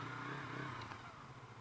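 A motorcycle engine runs steadily nearby on a town street during a curfew, a continuous low throb with a slight rise in revs partway through.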